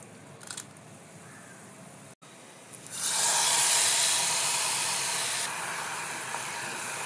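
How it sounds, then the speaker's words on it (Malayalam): Mustard seeds and two dried red chillies hit hot oil for a tempering, bursting into a loud, steady sizzling hiss that holds for a few seconds, then eases slightly. "അതിലേക്ക് നമുക്ക് വറവിടാൻ കടുകും ചുവന്നമുളകും ഉപയോഗിക്കാം."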